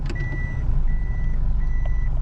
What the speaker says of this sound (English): it starts beeping, which is actually pretty cool, because I don't have any kind of backup camera